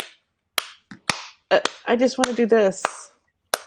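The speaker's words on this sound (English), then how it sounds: "I just want to clap." Hand clapping: a few sharp, close claps ring out singly between bursts of a person talking nearby, with one last clap at the end.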